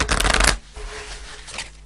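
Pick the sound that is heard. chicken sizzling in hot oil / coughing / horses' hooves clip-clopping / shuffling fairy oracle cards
shuffling fairy oracle cards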